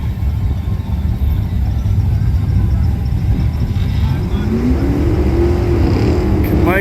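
A race car at a Tucson drag strip roars loudly and steadily, its engine note climbing as it accelerates away, with a rising whine toward the end and a strong low rumble throughout.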